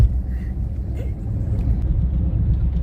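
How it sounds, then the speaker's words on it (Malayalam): A family car rolls along the road toward Ooty past forest, a steady low engine and road rumble heard from inside the cabin, continuous and fairly loud. "അപ്പയാണ് വണ്ടി ഓടിക്കുന്നത്."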